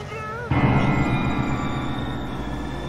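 A ghost train in GTA San Andreas – The Definitive Edition, a steady loud rumbling roar of rolling rail cars that starts abruptly and holds on, with a faint voice before it.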